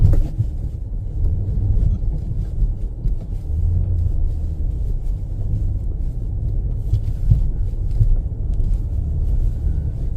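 A 2023 Nissan Pathfinder Rock Creek with intelligent four-wheel drive pushes through deep beach sand. It makes a constant, dense low rumble of engine and tyres from inside the cabin, with no speech.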